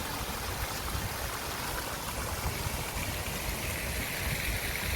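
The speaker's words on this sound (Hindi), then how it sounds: "ये फाउंटेन था और मुझे पानी की इसकी आवाज़ें निकलते हुए इतनी अच्छी लग रही थी" A water fountain near Pont Alexandre III in Paris splashes in a dense, steady rushing wash that stays loud and even throughout, with no voices.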